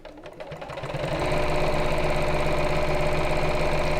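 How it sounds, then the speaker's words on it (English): A sewing machine stitches along the edge of a cushion seam, starting with a few slow stitches, then speeding into a steady, fast mechanical whir with rapid rhythmic clicking that stays loud and close, with no voices. "So I find if I sew just along the edge of the seam, it works a lot better for me."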